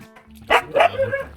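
A dog barks close by, giving two or three short, sharp barks in quick succession.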